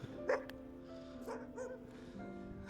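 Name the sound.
dogs barking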